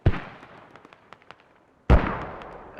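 Mortar shells land in the video game Squad: two heavy booming explosions about two seconds apart, with scattered sharp crackles and debris pops trailing the first blast.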